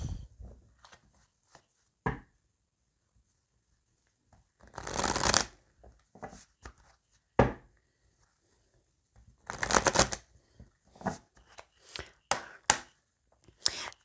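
Oracle cards shuffled by hand for a tarot reading, several separate bursts of riffling and slapping with quiet pauses between, close and fairly soft.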